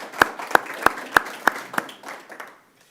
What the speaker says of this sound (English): I think we should all give each other applause